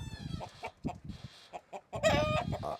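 Chickens cluck and squawk nearby in uneven bursts, with a louder stretch of overlapping calls toward the end.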